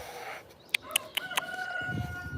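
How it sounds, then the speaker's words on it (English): Chickens in a rural Russian village give a string of short, sharp clucks and calls at moderate distance, over a quiet outdoor background with a low rumble near the end. "Chickens. I can hear chickens."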